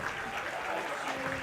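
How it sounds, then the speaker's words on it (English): A high school state playoff football crowd applauds from both sides of the field as an injured player is wheeled off, a continuous distant wash of clapping under faint voices. "you hear crowds on both sides applauding as they wheel that young man off the"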